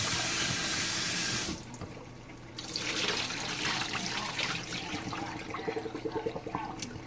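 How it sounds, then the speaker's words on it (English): Water runs from a tap, stops briefly, then flows again more unevenly, splashing and trickling as something is rinsed beneath it. "you rinse it off, and you can do another like mini rinse again"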